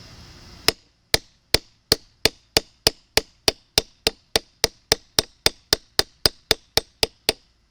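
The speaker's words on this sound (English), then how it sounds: "I'm probably gonna go to the hammer because I could make a little more progress with the hammer." Sharp metal hammer blows shaping a copper axe, about twenty crisp, evenly spaced strikes ringing out close and loud with short decays, following a brief moment of low background noise, with no talking.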